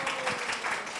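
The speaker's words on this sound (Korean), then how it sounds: "잘했다고 박수 한번 쳐줄까요?" A brief burst of clapping from a church congregation during a Sunday worship service, short and moderately quiet.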